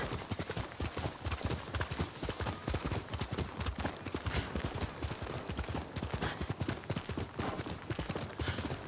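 A horse gallops in the video game Ghost of Tsushima, steady rapid hoofbeats pounding in a driving three-beat rhythm, loud and close throughout with no talking over them.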